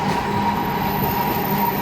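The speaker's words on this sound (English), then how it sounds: "They got trains passing, by." A train rolls past at close range, a loud, steady rumble with a faint metallic whine running through it, with no talking.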